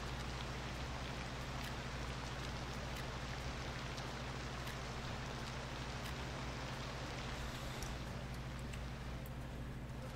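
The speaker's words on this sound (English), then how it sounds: "Goodness, it's raining quite heavily, isn't it?" Heavy rain pours steadily in the city-building game Cities Skylines 2, a dense continuous hiss of falling water with no talk, held at an even loudness under a low hum throughout.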